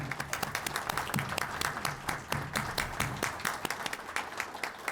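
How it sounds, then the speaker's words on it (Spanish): A park audience gives sustained applause for state senator Javier Soto, a dense, steady patter of many hands clapping at close range. "para el que pido un aplauso"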